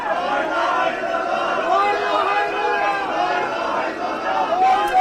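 A large crowd of mourners chants the kalima together at the funeral of a police inspector, a dense, steady wall of many voices sustained throughout, loud and continuous with no pauses.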